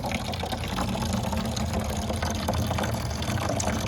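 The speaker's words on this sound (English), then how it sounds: "Rainwater running from your 55-gallon barrel water catchment system." Rainwater runs from a pipe on a DIY 55-gallon garden rain barrel, a steady close splashing gush with constant low churning and no talking.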